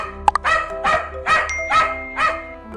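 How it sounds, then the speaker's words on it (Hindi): A dog barks angrily in a steady series of five loud, close barks with a brief yip at the start, alone with no talk. "तो वह गुस्सा होकर भौंकने लगा।"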